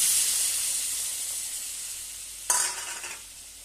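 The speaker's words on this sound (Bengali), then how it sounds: "এবার আমি একটু জল দিয়ে দিচ্ছি" A steady hiss from pumpkin curry cooking in a pan bursts into a sudden loud sizzle as water is poured in, then the sizzle fades gradually over the next second.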